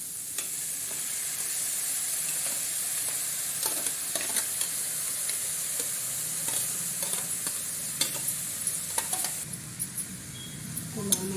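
Boiled cabbage frying in a pan for a cabbage curry with turmeric, with a steady sizzle running throughout and repeated clinks and scrapes from stirring. No one speaks.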